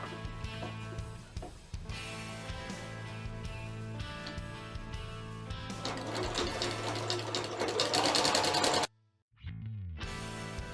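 A sewing machine runs steadily while stitching a leggings seam, a close, continuous mechanical whir with a rhythmic needle clatter that builds in speed, then cuts off abruptly before briefly starting again.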